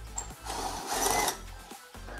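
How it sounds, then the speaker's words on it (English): A drill bit chamfers the back side of a 7/16 hole in a Suzuki Samurai differential part, making a short whirring, buzzing cut of about two seconds that swells in the middle. "I'll just run her through from the backside just to chamfer"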